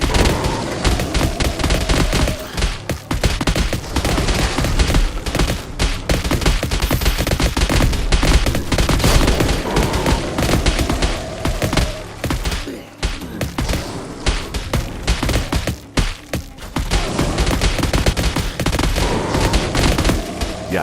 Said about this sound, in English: Why is that turret shooting out that way?